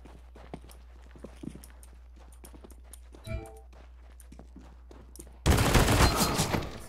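Counter-Strike gunfire bursts out loud and dense near the end, a sustained volley of shots after quieter clicks and footsteps, with a brief muffled impact midway.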